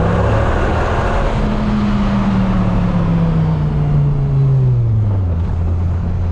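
A Dodge Viper engine roars loudly and close, with a strong, deep note that slides lower in pitch over several seconds and no voices.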